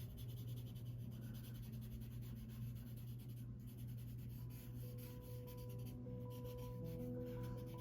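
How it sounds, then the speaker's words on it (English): Paper stump rubbing and blending pencil graphite on drawing paper, a steady soft close-up scrubbing hiss with no talking. "you can use your paper stump and take that dark area that you just drew"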